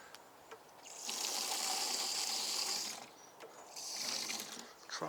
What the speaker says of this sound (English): Then you're going to top this up with water.